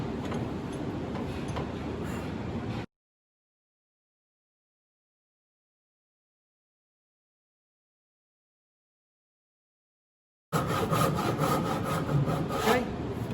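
A handsaw rips down a wooden tenon in steady back-and-forth strokes, rasping rhythmically up close, with a long stretch of total silence splitting two bursts of sawing.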